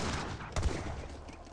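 Brief crackle of Gatling guns firing in an Age of Empires 3 battle, a dense burst of rapid shots peaking midway through a short noisy stretch of combat, with no voices.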